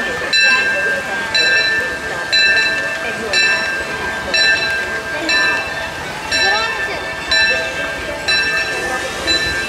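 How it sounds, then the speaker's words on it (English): A train rumbles in steadily at Disneyland while a bell rings in a regular repeating pattern, loud and close, with voices talking nearby. "here comes the train"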